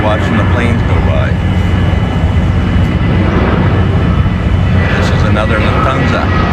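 Passenger jets fly low over the river near Frankfurt while a cruise ship waits in a lock, giving a steady broad engine roar that lasts throughout, with faint voices underneath.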